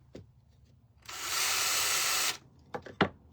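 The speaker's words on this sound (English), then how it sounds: "we're just gonna drill holes in these" A power drill whirs steadily for just over a second as it bores holes in craft materials for patriotic bows, close and loud, followed by a few sharp knocks and handling clicks.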